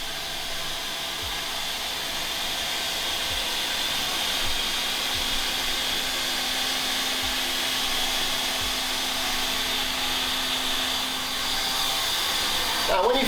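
A Wolff Mastergroover hot air floor grooving machine runs, its heated blower making a steady, continuous whooshing hiss that holds at an even level throughout.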